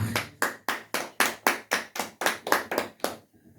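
A church congregation claps in unison, about a dozen sharp, evenly spaced claps in a steady rhythm that stop abruptly near the end, loud and close with no talking.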